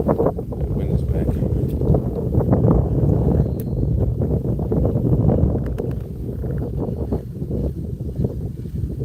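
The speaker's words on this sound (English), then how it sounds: "The wind is back." Steady wind buffets the microphone outdoors while fishing, a continuous low roaring rush with gusty swells throughout, and a voice faintly in the background.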